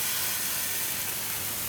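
Strawberry pancake batter sizzles on a hot pan, a close, steady hiss of frying that fills the whole moment with no talk.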